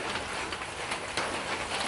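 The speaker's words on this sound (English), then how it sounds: "2 or 3 more months it'll rain like this." Heavy tropical rain pouring onto a garden, a dense steady hiss of close, loud rainfall with no break and no voices.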